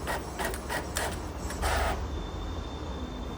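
A tattoo stencil printer running, giving a quiet series of short mechanical feed bursts that stop partway through, after which only a faint steady whine remains.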